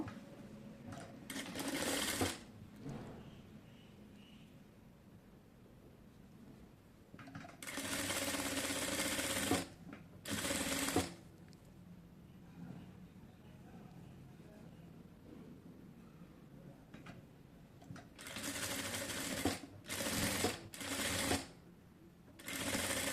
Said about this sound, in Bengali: এই পাশে হচ্ছে এরকম করে ভাঁজ করে তারপরে হচ্ছে সেলাইটা করব